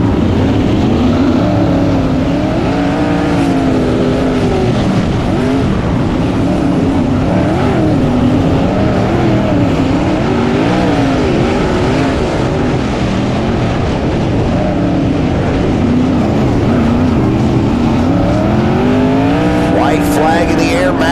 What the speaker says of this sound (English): Your final 2 laps for tonight's Buckeye Outlaw Sprint Car Series,